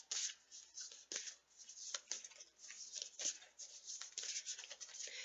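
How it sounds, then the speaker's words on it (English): A deck of tarot cards being shuffled by hand, giving steady riffling, papery rustles and soft slaps that repeat in uneven bursts for several seconds, close and fairly quiet with no talking. "take the deck and shuffle the cards to the rhythm of your own heartbeat"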